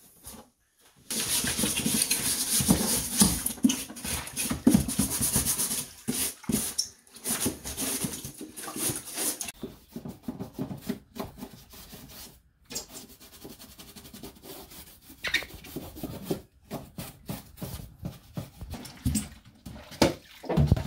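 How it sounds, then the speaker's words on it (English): A toothbrush and a scrub brush scour a styrofoam incubator near running water, giving rapid, uneven scratchy strokes that come in bursts with brief pauses and drips throughout. "I'll go back with the toothbrush and get all the other little spots that I couldn't with the scrub brush"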